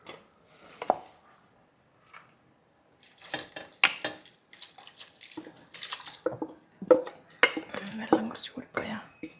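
Soaked, drained rice poured into a pot of boiling water while making chicken mandhi, heard as soft pouring and splashing with stirring and utensil clatter in intermittent bursts, a quiet voice speaking over parts of it.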